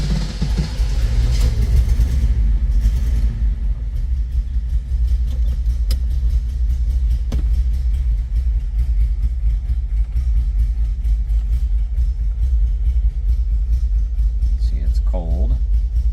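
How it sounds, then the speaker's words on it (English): 1971 Datsun 280Z engine idling after a cold start following a long sit, a steady low rumble throughout with people talking over it. "we're going to do a cold start"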